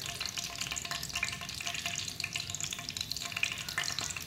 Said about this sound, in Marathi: आता मोहरीचे दाणे फुटेपर्यंत थांबलेलो आहोत।